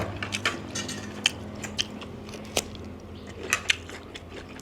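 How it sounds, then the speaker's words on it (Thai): Someone bites and chews crunchy food while eating a home-cooked village chicken meal, giving close crisp crunches at an irregular pace over a quiet background. "กินแบบกรอบกั้ว"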